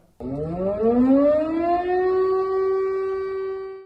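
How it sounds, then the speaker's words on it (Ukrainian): A wailing air raid siren in Chernivtsi, Ukraine, rises in pitch and holds a long, steady tone, loud and alone, with no voices. "До цього звуку сповіщення повітряної тривоги за останній рік містяни вже звикли"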